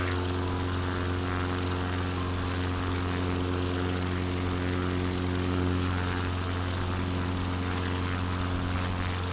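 Steady propeller-engine drone of a light airplane cruising over Montana in Microsoft Flight Simulator 2020, a constant loud hum with strong low harmonic tones and no talking.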